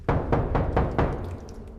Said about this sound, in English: Then, 3 heavy knocks echoed through the shelter.